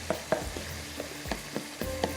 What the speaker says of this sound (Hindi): थोड़ा सा लकड़ी के चम्मच से आप इस तरह से प्रेस करेंगे ना, तो इससे ये होता है कि घुल जाता है।